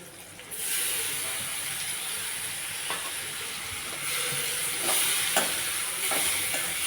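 Ground masala is stirred into sautéed small onions (shallots) and green chilies for a crab fry, a steady close sizzle and hiss in the pan with a few scraping stirs of the spoon.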